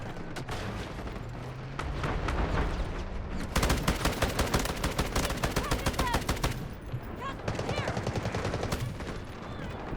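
Sustained automatic fire from an M249 light machine gun in the game Delta Force rattles in long, rapid bursts with a short pause in between, over background battle noise and a voice talking.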